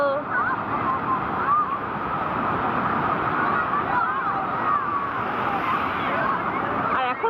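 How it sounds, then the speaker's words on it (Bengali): Sea waves break on the beach at Digha in a steady, close roar of surf, with voices speaking over the rushing water. "কতটা ঢেউ, তাই না বলো?"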